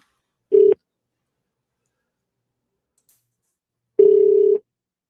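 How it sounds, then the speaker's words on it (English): Two telephone keypad tones dialing a restaurant: a short beep, then a longer tone about three seconds later, loud and isolated against silence. "Let me call this restaurant and see if they're going to be open."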